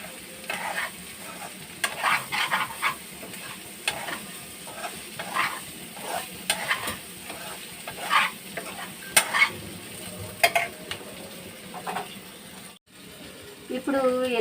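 Eggs fried in a pan for egg biryani give a steady, close sizzle with repeated scraping and stirring clicks over about fourteen seconds, and a brief gap near the end.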